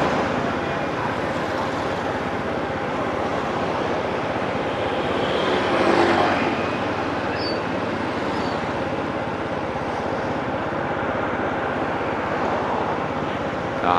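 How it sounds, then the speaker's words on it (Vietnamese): An airplane descending to land at Tan Son Nhat airport in Saigon makes a loud, continuous jet roar over about fourteen seconds, swelling slightly midway, with faint background noise. "những chiếc máy bay à, đáp xuống à, phi trường Tân Sơn Nhất à"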